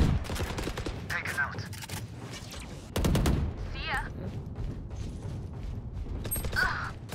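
Rapid gunfire bursts from the tactical shooter Valorant during a competitive full match, sharp repeated shots layered over game effects, with players talking throughout.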